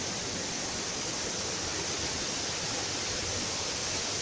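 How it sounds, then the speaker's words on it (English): Waterfalls of Algar on the Costa Blanca roar nearby, a dense, steady rush of falling water that fills the air without pause. "There are waterfalls all around me."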